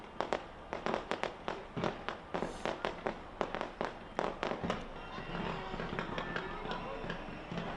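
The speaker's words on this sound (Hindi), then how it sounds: "जबरदस्त आतिशबाजी के साथ।" New Year fireworks over Auckland welcoming 2024: a rapid run of sharp bangs and cracking bursts, loud and close at first, then settling into quieter, denser crackling.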